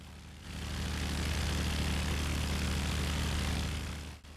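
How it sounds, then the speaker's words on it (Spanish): Distant drone of World War I enemy aircraft engines, likely biplanes, a steady low propeller hum that fades in after half a second, holds evenly and cuts off near the end. "de repente interrumpido por el zumbido distante de aviones enemigos"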